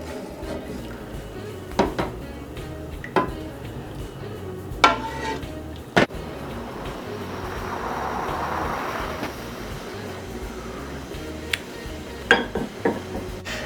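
A spoon stirs kosher salt into a pot of soaked beans, giving scattered clinks and scrapes against the pot with a soft swishing stretch in the middle, close and moderately quiet.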